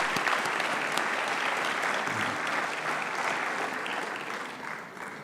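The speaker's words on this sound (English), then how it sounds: "Let's give a round of applause for all of our sponsors." A banquet audience at a real estate hall of fame induction claps for the sponsors, with loud, sustained, dense applause that slowly thins toward the end.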